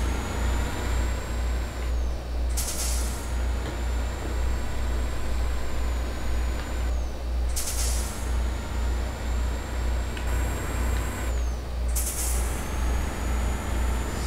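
A heavy Mercedes-Benz 1934 truck hauling a B-double trailer in Euro Truck Simulator 2: a constant low engine drone with a rising whine and three sharp air-brake hisses at regular intervals.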